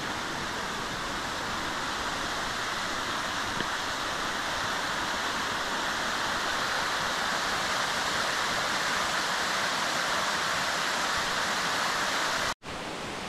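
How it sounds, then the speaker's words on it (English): Laurel Falls waterfall pours steadily, a constant dense rushing roar that fills the whole stretch without voices, briefly cut by a momentary dropout near the end. "Pretty awesome waterfall."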